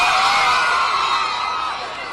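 Crowd at a Kenyan political gathering cheering and whooping for a member of parliament, a loud, bright roar of many voices that tapers off slightly over two seconds.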